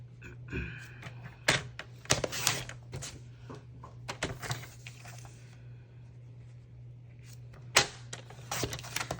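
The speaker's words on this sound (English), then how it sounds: "We're going to take a scrap piece of white, basic white cardstock, and I'm just going to trim off a piece real quick" White cardstock being cut on a paper trimmer: a few sharp clicks and quick slicing swipes, close and fairly loud, scattered in short bursts over a low steady hum, with quieter handling between them.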